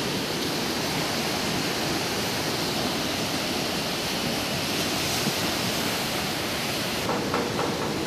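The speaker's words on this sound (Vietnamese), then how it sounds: "ngắm nhìn những đợt sóng xô bờ" Ocean waves break steadily on the beach at Vung Tau on a misty morning, a loud, continuous wash of surf filling the scene with no talking.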